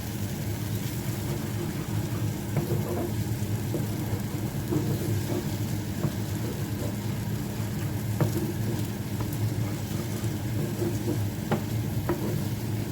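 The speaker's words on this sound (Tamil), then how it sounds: "இப்போ இதுவாக மிக்ஸ் பண்ணுவோம் தக்காளி பழத்தோடு சேர்ற மாதிரி மிக்ஸ் பண்ணுவோம்" An egg and tomato mixture being stirred in a pan for Jaffna-style egg tomato rice: a steady low sizzle with faint, scattered scraping taps from the stirring, heard close over a constant background rumble, with no talking.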